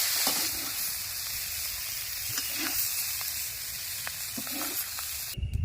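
Ripe bitter gourd frying in a pan gives a soft, steady sizzle, with a few light stirring scrapes and a brief clatter at the end.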